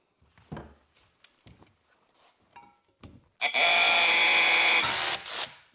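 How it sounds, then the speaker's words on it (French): After a few scattered knocks and taps, a power drill bores an 8 mm hole into a solid concrete wall, giving a loud, close, steady whine for about a second and a half before winding down. "Pour le béton, ça sera donc une paroi pleine, donc je vais percer directement en 8 aussi."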